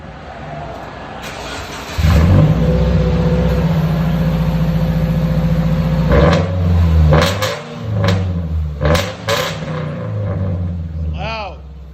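A 2017 Subaru Crosstrek 2.0 Turbo with a Dynomax Race Bullet exhaust fires up loudly and settles into a rumbling idle, then gives several sharp revs that fall back, with a brief voice near the end.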